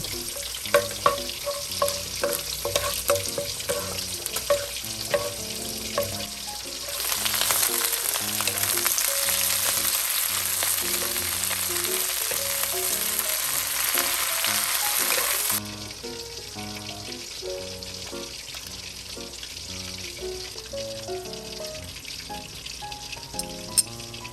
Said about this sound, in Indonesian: jadi paralel saya juga numis kangkungnya